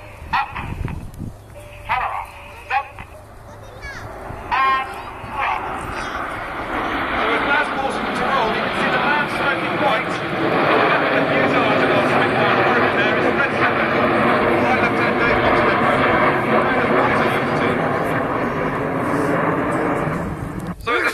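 Red Arrows display jets fly in formation, their engine roar swelling from distant to a loud, sustained rumble overhead, while a commentator talks over the top and a dog barks briefly early on.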